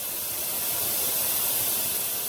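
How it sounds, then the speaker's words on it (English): Steam hisses from the nozzle of a Krups espresso mini model 963 machine, a steady loud broadband rush lasting throughout without any voices. "turn the steam back on to release all the steam"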